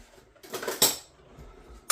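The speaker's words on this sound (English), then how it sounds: "I'll add about 1 tablespoon of brown sugar, so I'll give that a stir round" A spoon scrapes and clinks against a pan while brown sugar is stirred into a chicken stir-fry, giving a few scraping strokes with louder knocks near the start and end.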